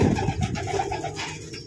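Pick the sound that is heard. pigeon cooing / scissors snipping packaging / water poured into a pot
pigeon cooing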